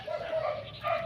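Dogs on a street give a few short yips and barks, moderately close, with faint background noise and no talk.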